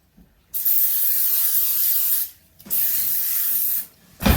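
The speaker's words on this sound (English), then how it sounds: "This is the cooking spray that we're going to use. We'll just coat the pan really good." Cooking spray hisses from an aerosol can in two long, steady bursts with a short pause between and a brief third spurt, coating a 9x13 baking dish up close.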